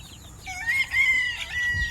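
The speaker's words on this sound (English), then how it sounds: "Here's Pigeon, the house chicken" A house chicken kept in a converted playhouse gives several short, near clucks and squawky calls, fairly clear and rising and falling over a low rumble of background noise.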